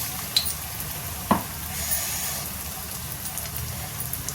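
Kadhi bada fritters frying in hot oil, a steady soft sizzle throughout with a couple of brief clinks near the start, close and moderately quiet with no talking.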